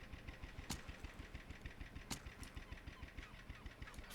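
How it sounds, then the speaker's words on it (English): A boat engine in the video game Hide and Hold Out: H2O chugs in a steady, rapid pulsing drone with a couple of sharp clicks, heard alone at moderate volume. "I thought I heard another boat then."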